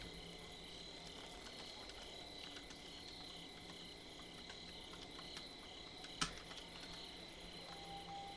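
Soft, steady clicking of a computer keyboard picked up by a microphone mounted just above it, a faint continuous patter of keystrokes over quiet room hiss, with one sharper knock near the end.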